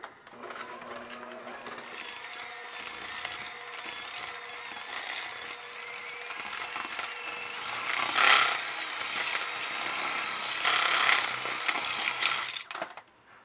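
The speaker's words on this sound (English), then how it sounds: "So I'm going to mix this up again." Cookie dough for white chocolate cherry cookies being mixed with eggs, likely by an electric mixer: a steady close mechanical whir runs throughout and rises slightly before stopping abruptly at the end.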